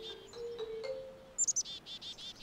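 A black-capped chickadee calls outdoors with thin high whistles, then a short series of three quick bright chirps followed by several softer buzzy notes, faint and somewhat distant.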